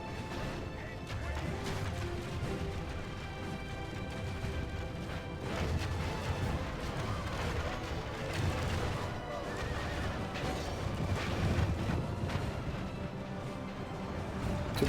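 Dense battle din from Third Age Total War Reforged, with hunters firing on Southron lancers amid neighing horses, crashes and hoofbeats, a continuous loud layered roar throughout.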